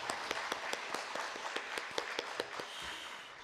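A church congregation claps at a Friday worship service, a loose, moderately distant patter of hand claps spread across the room, steady and unaccented throughout.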